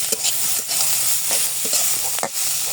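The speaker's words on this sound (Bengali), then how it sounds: "এখন পেঁয়াজটা একটু ভাজা হয়ে গেলে নামিয়ে দেব।" Sliced onions frying in a pan for a home-cooked lunch, a loud hissing sizzle with repeated scraping stir strokes from a spatula, close and steady, no voices.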